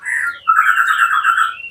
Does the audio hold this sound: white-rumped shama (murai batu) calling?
yes